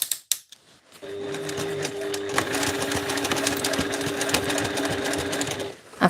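A sewing machine top-stitches a seam on a handmade backpack, running in a steady rapid mechanical chatter for several seconds with a faint whine. A few brief clicks and knocks come before and after the run.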